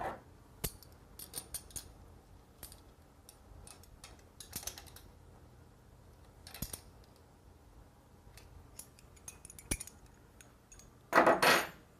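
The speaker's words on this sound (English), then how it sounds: "you pretty much go around all 3 of these bolts and just tighten them up" Wrench work on the air conditioning compressor bolts of an electric car gives sparse metallic clicks and ratcheting taps spread across a quiet background, ending in a brief louder burst of rattling metal.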